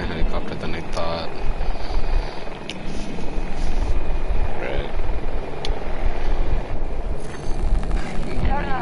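A helicopter flies in a war video game, its loud rotor and engine roar thumping steadily throughout while a player talks over it and game sounds break in.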